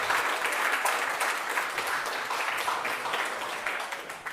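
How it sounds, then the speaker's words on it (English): An audience at a security conference talk breaks into sustained applause, a dense, even roar of many hands clapping that holds steady throughout and fades slightly toward the end. "Applause, applause, applause, applause!"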